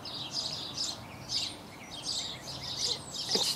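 Birds singing on an early April morning in Phoenix, Arizona: repeated high chirps and short warbling phrases at moderate distance over a soft outdoor background.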